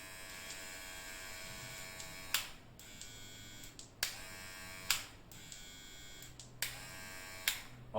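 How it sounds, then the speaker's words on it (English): A VGR hair clipper runs with a faint, steady electric hum and buzz, broken every second or so by short sharp clicks or snips. "Obviously, the hair clipper has more noise in it."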